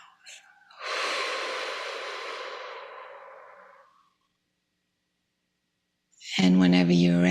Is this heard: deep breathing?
yes